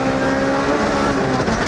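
A 1994 rally car at high revs during an in-car run on a closed Manx Rally stage, its engine droning loud and steady with a sustained tonal whine throughout and no voices.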